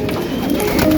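Racing pigeons coo in a loft at calling time before feeding, a soft, steady, low burbling chorus from several birds close by, with no talk.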